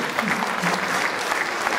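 Audience applause for teachers at a university opening address, a brief, dense burst of clapping from a crowd, with a voice faintly underneath.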